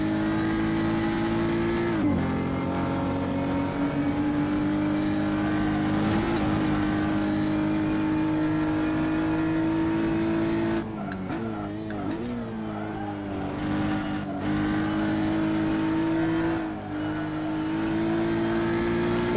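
Race car engine in a racing video game on the Ahvenisto track, a loud sustained engine drone that holds steady, dips briefly as the throttle eases for a turn, then climbs and revs again through the exit.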